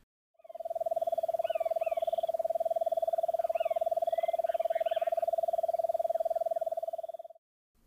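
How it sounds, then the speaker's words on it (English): Lesser nighthawk giving a sustained, toad-like trill, one long, steady, fairly loud call lasting about seven seconds, with faint chirps from other birds behind it. "Now listen to the lesser nighthawk's call, which is a sustained,"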